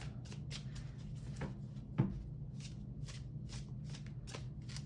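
Soft, repeated riffling and shuffling of tarot cards close by, in quick bursts with a single sharper tap partway through; no talking.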